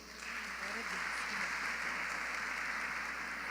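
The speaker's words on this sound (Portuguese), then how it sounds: "Salva de palmas ao Senhor" A church congregation applauding during a seminar service, a steady, dense roar of clapping that swells in quickly and holds evenly, heard slightly distant beneath a low room hum.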